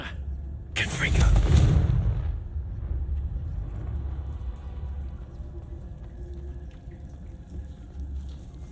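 A Confringo fire spell cast in the Hogwarts Legacy video game, a loud whooshing, crackling burst that swells and fades over about a second, followed by low rumbling ambience.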